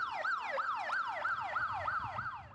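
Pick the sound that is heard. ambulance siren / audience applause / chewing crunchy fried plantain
ambulance siren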